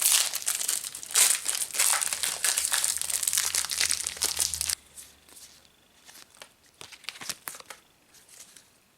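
A vintage collectible card pack wrapper is torn open with loud, close crinkling and crumpling of foil for about five seconds, then the rustling drops to softer, scattered handling sounds.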